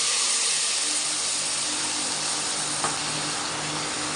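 Mint and coriander leaves sautéing in a hot pan give a steady, dense sizzle that holds evenly throughout, with a faint stir or scrape midway and no talking.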